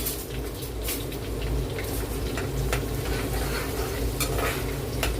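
A heap of crushed garlic sautés in hot oil for a sour tamarind curry, producing a continuous dense sizzle close by, with stirring scrapes and small crackles throughout.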